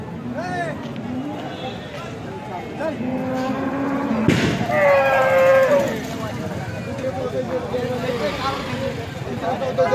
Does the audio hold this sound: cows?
yes